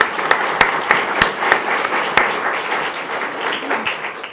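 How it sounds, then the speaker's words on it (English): Applause from a school board meeting audience for a committee, loud, dense clapping with a few sharp claps standing out, fading slightly toward the end. "Let's give that committee a round of applause."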